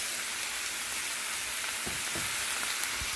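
Thin potato slices frying in a pan of hot oil, a steady dense sizzle with a few soft crackles near the end, close and continuous with no talk.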